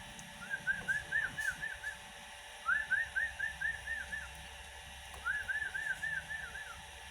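A Javan myna sings in three separate bursts of quick whistled notes, each a short repeated run, fairly faint over a steady background hum.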